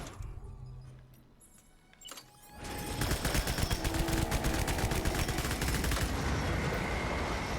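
Gunfire aimed at a BT in Death Stranding starts after a quieter stretch and becomes loud, rapid, continuous shooting, a dense rattling stream of shots that keeps going to the end.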